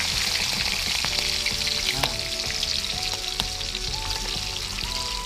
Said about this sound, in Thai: น้ำมันเริ่มร้อนแล้วเราก็กุ้นเชียงใส่ได้เลยครับ